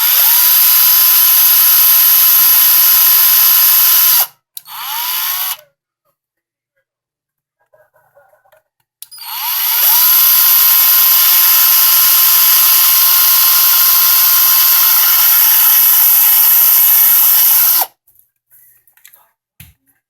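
A drill cuts a hole for a Uniden Bearcat microphone element, a loud steady high-pitched whine in two long bursts, the first about four seconds and the second about eight, with a short rattle and quiet clicks between them.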